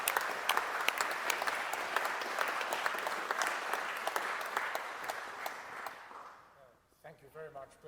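Sustained audience applause fills a hall for about six seconds, dense and steady with sharp individual claps, then fades out as the room settles and a voice begins.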